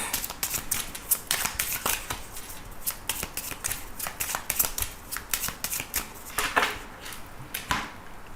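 A 32-card deck being shuffled for a card reading: a quick run of crisp riffling snaps and flutters at close range, bursts of cards falling in irregular rhythm, fairly quiet with no voice.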